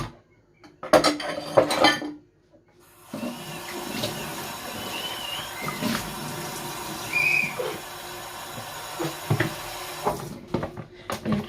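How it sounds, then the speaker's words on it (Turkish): Dishes and cutlery clink and clatter in a sink under steady running water, with occasional louder knocks of pots and plates close by. "Hemen hızlı hızlı yıkayayım. Daha önce de şu bulaşıklar çıksın."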